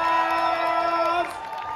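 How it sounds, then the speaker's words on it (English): Audience at a live drag show in Las Vegas cheering and whooping, the crowd noise sitting under a host's sustained amplified vocal that drops out near the end. "Keep the clapping coming."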